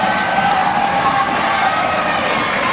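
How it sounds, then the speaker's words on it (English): Crowd cheering at a high school wrestling tournament, a loud, sustained roar of shouting spectators filling the arena, steady throughout with no break. "This crowd's getting excited."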